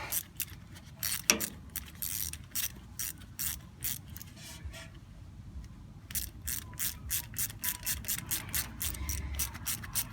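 A band clamp on the rack and pinion boot of a 2012 Toyota Tundra being tightened with a ratcheting tool: quiet, rapid runs of metallic clicks in steady bursts, close up with no talking.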